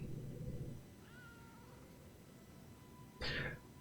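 Short, faint mewing from Spring the kitten in Lies of P, then one clear, bright meow near the end over a quiet, steady game background.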